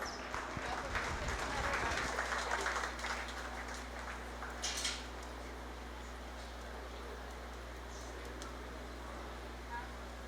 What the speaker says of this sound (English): Please give all of these exhibitors a round of applause.